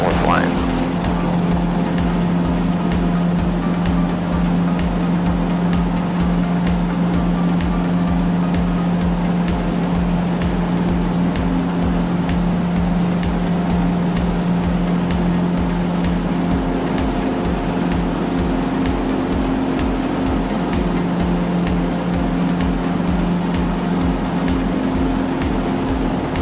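A small airplane's engine roars at full power during takeoff and climb, a loud, steady, droning buzz with a rapid regular beat that holds throughout. Faint radio or cockpit voices sit beneath it.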